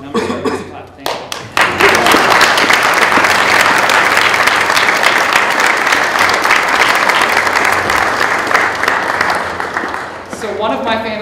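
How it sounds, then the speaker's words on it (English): A crowd at a Masonic lodge's annual installation of officers bursts into loud, sustained applause after a couple of scattered opening claps, many hands clapping close and dense before tapering off, with a voice audible at the end. "And I'm going to start this clap"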